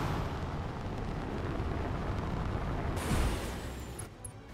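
Heavy mech weapons fire at a turret in the BattleTech game, a sustained rumbling barrage with a sharper blast near the end, loud and continuous with no talking.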